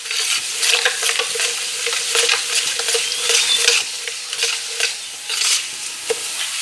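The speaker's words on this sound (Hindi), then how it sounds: "इसमें तमाम ऑयल में मसाले डाल देंगे।" Spices sizzle and fry in hot oil for homemade mango pickle (aam achar) over a very low flame, with steady crackling and frequent stirring scrapes running throughout, close and fairly loud, no voices.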